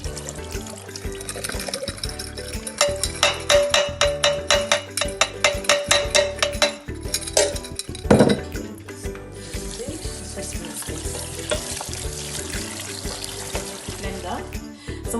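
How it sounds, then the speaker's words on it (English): Running tap water splashes steadily into a sink as soaked spelt grain is rinsed, with rhythmic sloshing and trickling, close by. "So we're just going to rinse it off and remove the phytic acid from the spelt."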